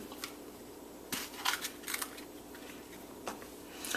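A knife slices open a hot pepper on a board, giving a few faint, soft crisp cuts and light taps spread across a quiet moment, with no talking.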